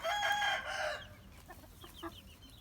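An Indian rooster crows loudly and close, followed by softer scattered clucking from chickens.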